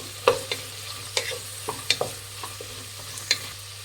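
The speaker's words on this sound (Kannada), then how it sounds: "ಒಂದು ಸ್ವಲ್ಪ ಕ್ಯಾರೆಟ್ ಹಾಕ್ಕೊತಾ ಇದ್ದೀನಿ ಫ್ರೆಂಡ್ಸ್. ಬೀನ್ಸ್ ಹಾಕ್ಕೊತಾ ಇದ್ದೀನಿ. ಮಿಕ್ಸ್ ಮಾಡಿ" A spatula scrapes and taps through carrots and beans frying in a pan for coconut rice, several separate stirring strokes spaced irregularly over a faint background sizzle.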